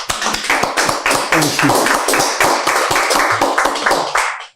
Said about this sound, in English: So let's give him a round of applause, please.